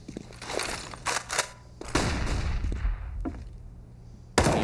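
Rapid gunfire bursts from the video game Counter-Strike on the Mirage map during a tournament match, loud sharp cracks in clustered sprays with brief pauses and a final sudden shot.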